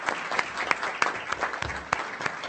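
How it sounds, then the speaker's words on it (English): Audience at a Board of Education meeting applauds a group of named people, steady clapping throughout with a few sharper claps standing out nearby. "Let's give them all a round of applause."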